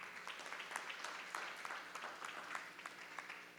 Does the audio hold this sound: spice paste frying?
no